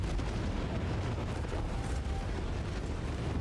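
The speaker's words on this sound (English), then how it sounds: "but there's also a lot of explosions." Explosions in the Elder Scrolls Online video game form a dense, continuous roar of blasts and rumbling gunfire-like bursts, loud and unbroken throughout.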